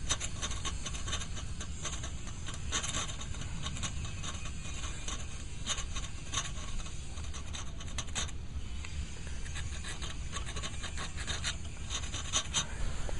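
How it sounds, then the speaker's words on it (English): Old gasket material is scraped off a snowblower engine by hand, with repeated close, gritty rasping strokes and small clicks coming in an irregular rhythm over a low background rumble. "What I gotta do is scrape off some of this old gasket."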